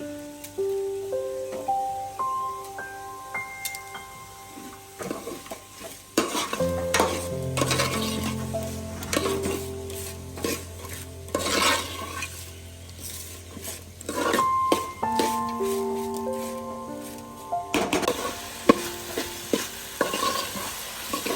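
Onions fry with added salt in a pan for a Kerala-style chicken curry, a soft continuous sizzle under repeated scraping stirs, with tonal music playing over it.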